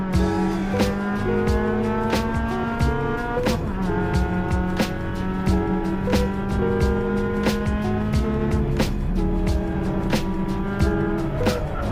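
A race car at the Malaysia Speed Festival brakes hard and downshifts into second gear for a late-apex turn, then accelerates through it. The engine note is loud and close, rising and falling in pitch through repeated gear changes, with no talk over it.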